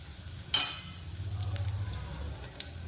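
Cumin seeds, asafoetida and cloves tempering in hot oil for dal fry give a soft, steady sizzle with a sharp crackling burst near the start, then a low, even fry close by.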